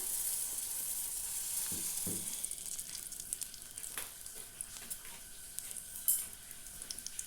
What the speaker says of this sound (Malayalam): ഒരു ചട്ടി അടുപ്പത്ത് വെച്ച് ചട്ടി നന്നായി ചൂടായിട്ടുണ്ട് അതിലേക്ക് കുറച്ച് നെയ്യ് ഒഴിച്ചു കൊടുക്കാം